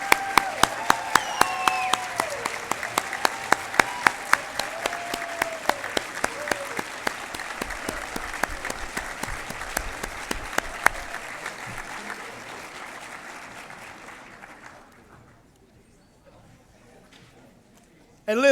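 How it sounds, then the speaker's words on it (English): A university audience gives sustained applause for the 2022 baseball championship team, loud dense clapping with sharp individual claps that fades out after about fifteen seconds, and a voice carries over it at the start. "give our baseball team a thunderous Eagle Nation round of applause"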